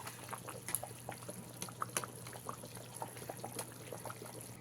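Katla fish simmering in curry gravy, a quiet bubbling with soft pops and small liquid blips over a steady low hum, fairly faint and close.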